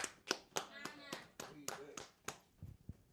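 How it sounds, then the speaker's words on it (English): Children clap in a Hebrew language class in a loose, uneven rhythm of about a dozen sharp hand claps, close and crisp, with voices talking between and over the claps. "Clap it up."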